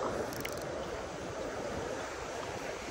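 Big waves at a seaside fishing spot on a rainy day, heard as a steady, dense wash of surf with wind noise that fills the whole stretch without a break.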